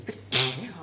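A single sharp sneeze bursts out close by, preceded by a brief intake of breath and followed by a short fading voiced trail.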